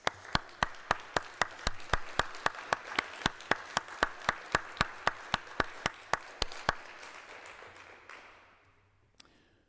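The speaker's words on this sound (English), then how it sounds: "I want to take this moment to welcome them and thank them and give them a big round of applause." Applause at a city address welcoming police officers, heard as evenly spaced sharp claps in a steady rhythm that ring out in a reverberant hall and then decay into a quiet tail.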